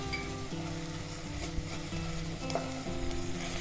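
Ginger garlic paste sizzles with onions in a pan for a green chicken dish, a continuous frying hiss with occasional stirring scrapes and soft clinks, under a faint tonal background.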